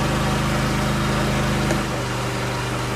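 A genset engine runs steadily while charging a lithium battery with direct DC, a loud constant low droning hum that shifts slightly in pitch partway through.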